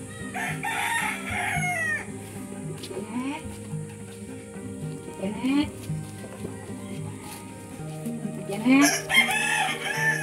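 Several roosters crow at once nearby, with clucking hens and a person talking under the flock.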